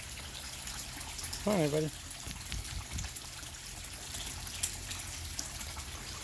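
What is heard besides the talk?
water draining from fish tank for water change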